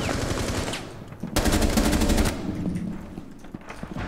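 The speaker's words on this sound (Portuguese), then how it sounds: "Ainda bem que essa arma da Ashe ainda funciona." Rapid automatic gunfire from Ashe's weapon in Rainbow Six Siege on the reworked Favela map, loud sustained bursts with a dense cracking stream and a heavy peak in the middle, fading to scattered shots.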